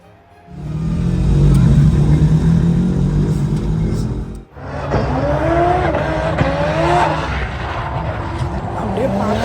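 A race car engine roars and revs hard with a brief gap, tires scrabbling and squealing as it skids in sand, while voices talk underneath.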